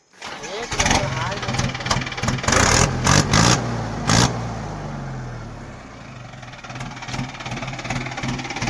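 An engine fitted with a steel silencer cranks and catches, then settles into a loud, throaty idle with a rising rev, while people talk nearby.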